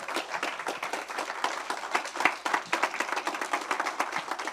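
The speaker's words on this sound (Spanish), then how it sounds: "Dale un aplauso al Señor fuerte." A church congregation applauds together, dense steady clapping from many hands filling the room for several seconds, loud and continuous with no talk over it.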